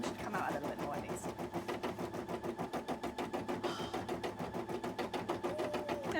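An embroidery machine stitches decorative detail onto a cosplay dress, its needle hammering in a fast, steady, even rhythm that runs loud and close the whole time, with no talking over it.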